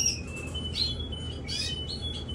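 Canary chicks give thin, high chirps in short scattered bursts over a quiet background hiss, faint and close, with no voices.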